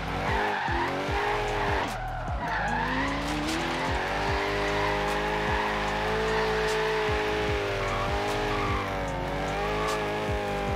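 A low-powered car in Forza Horizon 3 strains its engine while climbing a hill, a steady droning growl with shifting pitch and bursts of tire squeal, loud and close throughout, with no talking.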